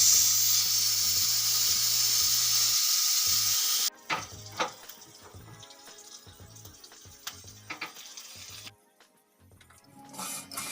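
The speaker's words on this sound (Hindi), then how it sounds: "यह दाल में मैंने छौंक लगा दिया है" A tempering (chhaunk) for dal sizzles in a pan in a home kitchen, a loud bright hiss for several seconds that drops away, followed by clinks, stirring and scraping sounds, with no talk.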